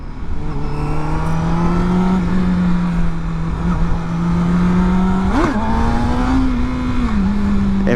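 A Honda CBR600RR sport bike, freshly rebuilt after a wreck, runs at steady high revs close by, with a sharp blip and pitch swing midway before settling back into a loud, continuous engine drone.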